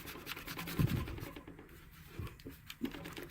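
Scrubbing grime out of the grooves of a Corsair STRAFE mechanical keyboard with alcohol, heard as soft, irregular scratching and rubbing strokes with a few louder taps, close and quiet.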